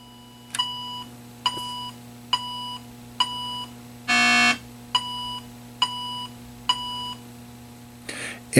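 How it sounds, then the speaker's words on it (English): Diagnostic beeps from a 1979 Atari Video Pinball arcade circuit board: a steady run of short, evenly spaced electronic tones, with one longer, lower, buzzier tone breaking the pattern midway, heard clearly over a faint hum. "It's giving me a 4 beep, a low tone on the 5th beep."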